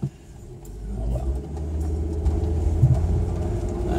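A vehicle towing a sailboat on its trailer rolls slowly through a campground, its engine giving a steady low rumble close by, with no talk.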